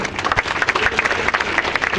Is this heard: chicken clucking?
no